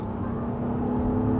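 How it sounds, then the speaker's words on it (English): A 2024 Acura MDX Platinum Elite engine pulls steadily under acceleration, a smooth, continuous drone from inside the cabin with a faint rising tone near the end and no talking. "If that audio is not pumped in, that is a great sounding engine."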